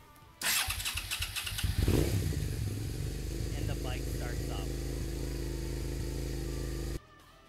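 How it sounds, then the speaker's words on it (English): A Suzuki SV motorcycle engine with its clutch safety switch bypassed cranks briefly and catches, then settles into a steady, close idle with a throbbing mid-pitched rumble that runs for several seconds before cutting off. "turn on the ignition, and the bike starts up"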